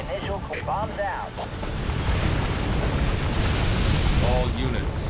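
A bomb explosion in the Halo Wars campaign rolls out as a loud, sustained rumbling roar that swells and holds, with a voice speaking briefly over it.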